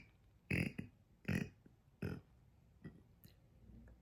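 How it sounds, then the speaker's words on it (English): A person burps in a string of separate belches, three louder ones about a second apart followed by fainter ones, close and fairly quiet with no talk. "that was the longest burp of my life"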